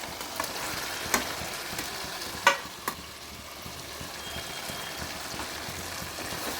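Masala with cumin and coriander powder and unfried paneer sizzles softly in hot oil in a pan, a continuous faint crackle broken by a few sharp clinks of a spatula.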